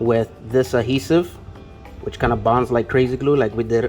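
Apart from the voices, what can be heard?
No everyday noises stand out.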